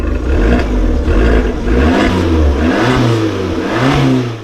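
A Fiat 500 Abarth 595 Trofeo engine with standard exhaust revs loudly and repeatedly, rising and falling in pitch with a raspy exhaust growl, close up and with no talking.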